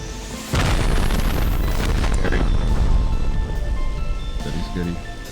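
Rocket blasts from an attack helicopter in the survival game Rust, heavy booming explosions that swell into a loud, sustained rumble, with players' voices talking over the chaos.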